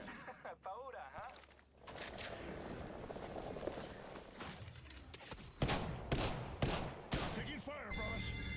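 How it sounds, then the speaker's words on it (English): Rapid bursts of gunfire in the battle royale game Apex Legends, repeated sharp volleys and single cracks over busy in-game combat noise, loud and close, with in-game voice lines spoken over the action. "Taking fire, brothers."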